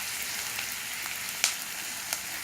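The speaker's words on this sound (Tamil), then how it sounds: "இடித்து வச்சுருக்கிற புதினா இலையும் இஞ்சி பூண்டு 3 போட்டு நல்லா கிண்டணும்." Mint leaves, ginger and garlic frying in a pan as they are stirred for a ladies finger (vendakkai) gravy; a quiet, steady sizzle runs throughout, with a few sharp clicks of stirring.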